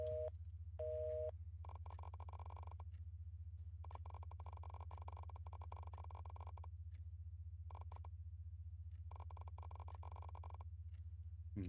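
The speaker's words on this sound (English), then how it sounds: "So now we're gonna do the phone call." A phone call tone in the video game Insight gives repeated electronic beeps in steady on-off pulses over a constant low hum, faint and with no talk.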